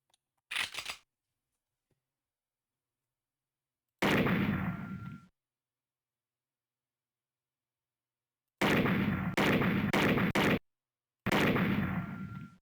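Bursts of gunfire from a light-gun test in the Snatcher video game: a short burst, then a longer blast, then several loud, sharp volleys in quick succession, with silence between them.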